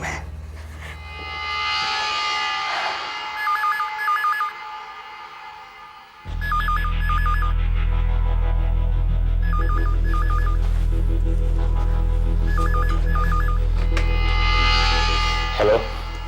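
A telephone rings again and again in bright, evenly spaced electronic bursts, loud and close, over a low steady background drone, in a scene from a crime drama series.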